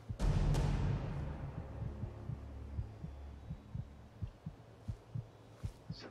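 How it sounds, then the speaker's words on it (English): Slow, steady heartbeat thumps pulse in a Skyrim vampire roleplay game scene, a low throbbing rhythm of about two beats per second beneath a humming ambient drone, following a brief louder opening swell. "Yeah, do you guys hear that heart beating?"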